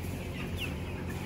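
Chickens cluck and mutter steadily, a young rooster being put in among the hens, the farmyard sound moderately close and continuous without talk.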